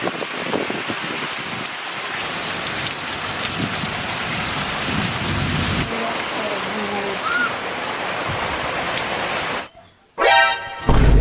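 Heavy rain pours down in a dense, steady hiss with pattering drops for about ten seconds, then cuts off abruptly near the end.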